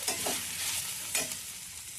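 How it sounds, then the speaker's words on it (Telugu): Ginger garlic paste with fenugreek leaves frying in a pan for methi chaman curry, a steady close sizzle broken by a few scraping stirs of the spoon, with no talk. "అల్లం వెల్లుల్లి పేస్ట్ కూడా పచ్చివాసన పోయేంత వరకు వేయించుకోవాలి."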